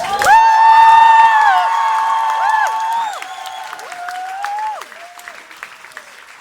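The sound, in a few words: audience applause and cheering at poetry show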